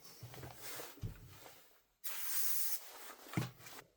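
Degreaser sprays in short hissing bursts onto an airsoft gun gearbox, three or four close spurts with one longer blast in the middle and light handling clicks between.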